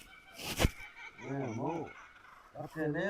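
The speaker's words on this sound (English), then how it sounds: "That was surround sound kookaburra." Loud, raucous kookaburra calls with rising and falling cackling tones in the Australian bush, one burst then another a moment later, close by and layered over each other.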